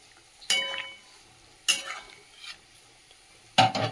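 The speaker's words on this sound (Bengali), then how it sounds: "পেঁয়াজটা একটু ভেজে নিই" Onion frying in a pan, stirred in three separate bursts of scraping and sizzle with quieter frying between them, close by, with no talking.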